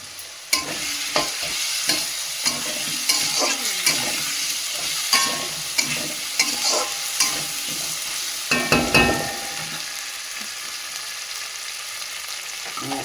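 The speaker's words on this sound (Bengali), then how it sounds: "এবার আমি দিয়ে দেবো আদা বাটাটা" Ginger paste with Kashmiri chilli, cumin and coriander powder fries in a pan for a fish-head and cabbage dish: a loud continuous sizzle broken by frequent close stirring clatters.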